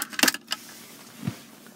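Keys for a Mercedes E200 AMG jangle close by in a quick metallic clinking burst, followed by a softer single clunk a moment later. There is no speech.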